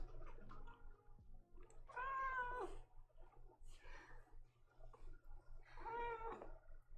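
A pet cat meows twice indoors, each call a drawn-out, moderately loud wail with a pause between, over a low steady background hum.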